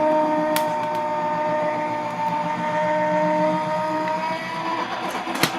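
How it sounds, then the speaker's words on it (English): A die cut machine cranks a scalloped stencil through its rollers with a steady, close mechanical whirring drone, and a couple of sharp clicks punctuate it. "Run that through my die cut machine."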